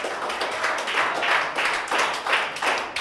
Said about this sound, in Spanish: Póngase de pie, póngase sobre su pie y aplauda al Rey.